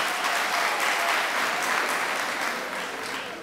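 Audience at a speech on fifty years of independence breaks into applause, a dense, steady roar of clapping that holds for a few seconds and then starts to ease off.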